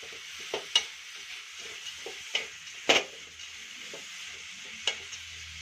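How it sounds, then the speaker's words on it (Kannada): Grated carrot cooks in ghee for carrot laddu: a quiet low sizzle under scattered spatula taps and scrapes, one louder knock near the middle, close by and without speech. "ಈಗ ಚೆನ್ನಾಗಿ ಕ್ಯಾರೆಟ್ನ ತುಪ್ಪದಲ್ಲಿ ಫ್ರೈ ಮಾಡ್ಕೋಬೇಕು"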